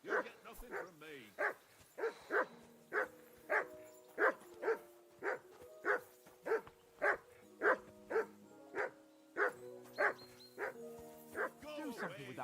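A dog in the medieval game Kingdom Come barks over and over in a steady run of sharp, yipping barks for the whole stretch. Close and clear, with a few whimpers mixed in.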